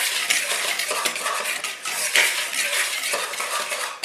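A whisk scrapes and clatters continuously against the inside of a mixing bowl, a busy metallic scratching that stays steady and fairly close throughout.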